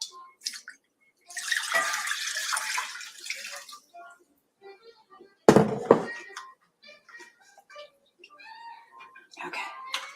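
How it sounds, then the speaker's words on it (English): Tap water running into a cooking pan for a couple of seconds with a bright splashing rush, followed by a metallic clank, while a person talks intermittently close by. "And we'll get the water in there now so it gets heated."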